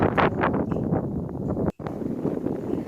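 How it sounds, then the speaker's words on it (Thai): Strong, cold wind blows outdoors on a walk around a village near a border, buffeting the microphone with a continuous loud roar and gusty rustling, briefly cut out once. "ลมแรงมากเลยค่ะ"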